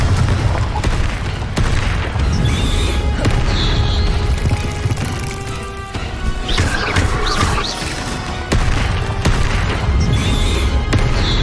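Confringo blast spells in Hogwarts Legacy combat, loud booming explosions and crashing impacts in dense succession over a continuous battle din, with game effects and a few brief voice calls.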